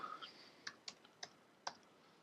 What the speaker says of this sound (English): excuse my poor typing skills